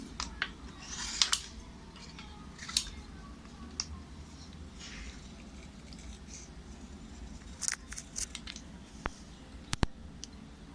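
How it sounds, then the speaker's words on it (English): Scissors snip paper shapes repeatedly at close range, sharp irregular cuts with short pauses between them against a quiet background. "Using the scissors, we need to cut all these 3 shapes."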